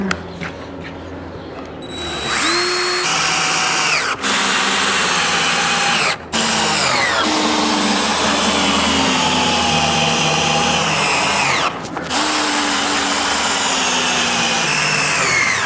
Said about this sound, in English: All I gotta do is screw these two boards back in